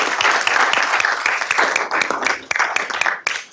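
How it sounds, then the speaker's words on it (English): A council meeting audience applauds the town's Appearance Commission, a dense wash of many hands clapping close and continuous for several seconds, with scattered louder individual claps as it tapers. "give another round of applause to the Appearance Commission"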